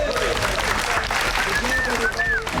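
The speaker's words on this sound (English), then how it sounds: "Give yourself a round of applause" Applause from the crew of Doctor Strange (2016) after a Filipino martial arts fight rehearsal, a steady clatter of clapping throughout with talk and other voices mixed in over it.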